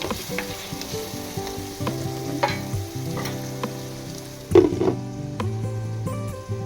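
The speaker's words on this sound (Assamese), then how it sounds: "দৈখিনি ভালদৰে গোটেইখিনি মিক্স আপ কৰি মই ঢাকনিখন মাৰি থৈ দিম" Jackfruit masala mixed with yogurt fries and bubbles in a pan, a steady close sizzle under scraping stirs, with a louder clatter midway and faint tonal hum running throughout.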